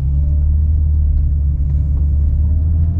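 A BMW with a swapped dual-clutch transmission and single-mass flywheel pulls away on the road, its engine giving a steady, loud low rumble from inside the cabin with no speech over it.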